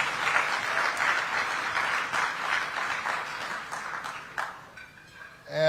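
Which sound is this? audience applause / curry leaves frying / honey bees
audience applause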